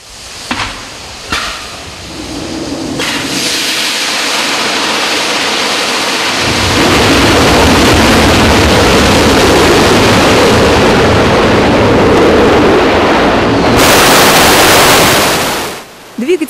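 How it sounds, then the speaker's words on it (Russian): A Soyuz first-stage rocket engine fires on a test stand with cooling water supplied, a massive broadband roar that builds from rumbling bursts into a steady thunderous blast, very loud and sustained before cutting off abruptly. "Двигатель, который только что прошел проверку, встанет на первую ступень ракеты-носителя типа «Союз»."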